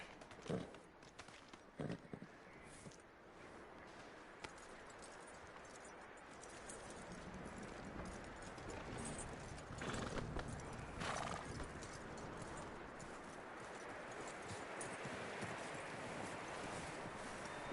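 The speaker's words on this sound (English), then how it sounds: "That looks like a decent horse." A horse in Red Dead Redemption 2 clip-clops with a neigh or whinny, hoof steps loud and close at first before a softer, continuous wind-like ambience fills the rest.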